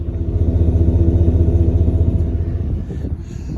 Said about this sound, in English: you might be able to hear a little bit of a rumble